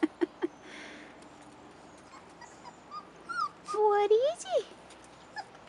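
Rottweiler puppies, four and a half weeks old, give a few thin whimpers and rising, squeaky whines close by, while someone speaks softly to them.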